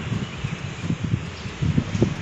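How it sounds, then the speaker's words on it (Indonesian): Strong, cold wind while cycling buffets the microphone in uneven low gusts, roaring up and down without letup and with no speech. "Ini hari keempat udah dapat angin gede banget dan super dingin."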